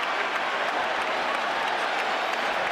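A packed arena crowd at the Manny Pacquiao vs Miguel Cotto boxing fight roars and applauds in a loud, unbroken wash of cheering that holds steady throughout.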